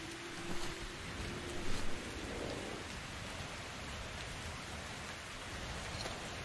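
Rain falling in the video game Metro Exodus, a steady, dense hiss of drops that stays even throughout, with a couple of brief louder patters early on and no talking.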